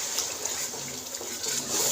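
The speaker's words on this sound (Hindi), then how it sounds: "थोड़ा सा पानी डाल दें।" Water poured into frying masala for a fish curry, a steady pouring and sizzling wash heard up close with no talk over it.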